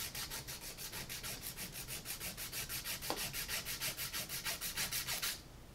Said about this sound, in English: You know, it's actually filing.